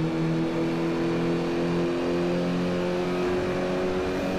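An Alfa Romeo MiTo in Forza Motorsport 4 drones at a steady high engine pitch with layered harmonic tones, a continuous loud in-game motor note with no talk.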